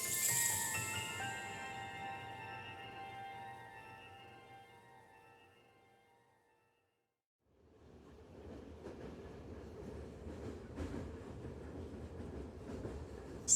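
A train rolls on rails in a video game, with a steady rumbling clatter that fades out to near silence midway and then returns as a louder, even roar of wheels.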